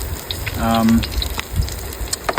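Squid sizzling in hot oil in a pan, a steady crackling fry with bubbling pops and a brief tonal hum, fairly close and continuous.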